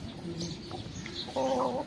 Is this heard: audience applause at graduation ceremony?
no